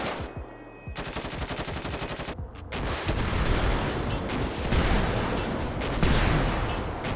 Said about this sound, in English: Like, you gotta admit, those gun sounds are pretty awesome